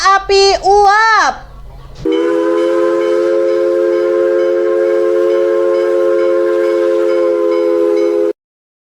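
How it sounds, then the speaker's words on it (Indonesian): A steam train whistle: a short two-tone blast followed by a long, loud, steady tone held for several seconds, then cut off abruptly. "Kereta api uap."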